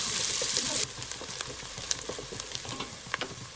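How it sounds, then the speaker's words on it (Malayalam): A large chopped onion sautéing in a pan for chicken madghut, heard as a loud hiss that drops slightly and continues as a sizzle broken by scraping stir sounds. "നമുക്കിതിനെ പാനിലോട്ട് ചേർത്ത് നന്നായി വഴറ്റിയെടുക്കാം."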